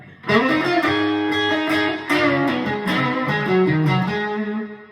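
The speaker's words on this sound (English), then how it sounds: "There's the spring reverb." An electric guitar plays chords through a TC Electronic Hall Of Fame Mini reverb pedal on its spring setting, splashy reverb making notes ring and overlap in a wet, lingering wash; no voices.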